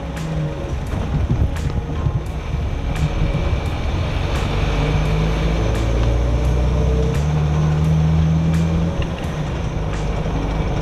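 A 2003 Jeep Wrangler TJ with a newly replaced transmission drives along after a downshift, its engine and road rumble steady and loud throughout, with wind buffeting and faint ticks over the low drone.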